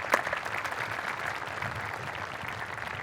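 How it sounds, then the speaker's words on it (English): Light, steady applause from a seated audience at a university presidential inauguration, a soft continuous patter of many hands with no talk over it. "There's a little applause."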